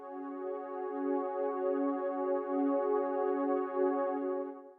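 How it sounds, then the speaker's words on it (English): An analog-style synth pad on a Yamaha Motif X8 holds a sustained, rich harmonic chord with a gentle slow pulsing swell, steady and alone for several seconds before cutting off. "this first one we have here is like an analog pad."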